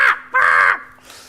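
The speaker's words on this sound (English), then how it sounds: "So basically the seagulls have come in and gone" Seagulls calling at the seaside, two harsh, loud nearby cries with a fainter third call trailing after.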